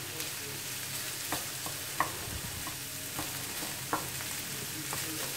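Old sausages and onions being fried thoroughly in a pan, producing a steady, close sizzle with occasional sharp clicks and scrapes from stirring, fairly quiet and free of talk.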